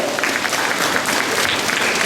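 Sustained applause fills a school entrance ceremony, a dense steady clatter of many hands clapping throughout with no break.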